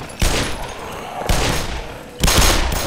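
Gunfire in the video game Black Mesa comes as three dense, loud bursts of rapid shots that run almost continuously, each starting with a sharp attack.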